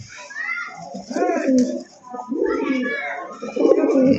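Several pigeons coo in soft, repeated rolling calls close by, overlapping one another, at a pigeon market.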